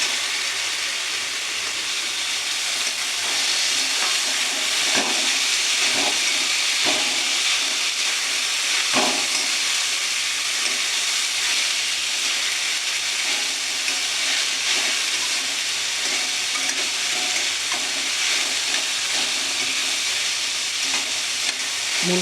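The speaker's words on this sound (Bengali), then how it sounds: "খানিকক্ষণ আমি ভেজে নেব" Chopped radish frying in a pan for a Bengali radish chicken dish, a steady close sizzle and hiss that runs throughout, with occasional stirring clinks and scrapes.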